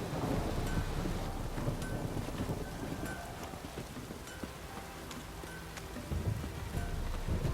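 A rain downpour in The Witcher 3 video game, a steady hiss of heavy rain with a low rumble underneath and scattered small ticks, continuous and fairly faint.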